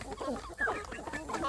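Free-range village chickens on a small poultry farm cluck in short, close, chattering bursts, several birds overlapping briefly.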